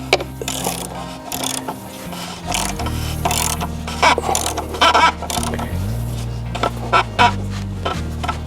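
Torque wrench tightening an oil drain valve on a 3.6L Pentastar Jeep Wrangler JL, heard as a run of close mechanical ratcheting clicks and short metallic bursts, fairly loud and steady, with no talking.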